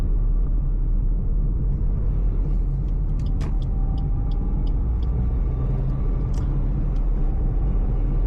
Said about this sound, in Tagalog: Pero ang dami pa rin sasakyan.